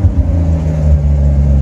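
Ford Maverick with a 250 inline-six engine idles at curb idle, a steady, loud low rumble with an even, slightly lumpy pulse and no talk.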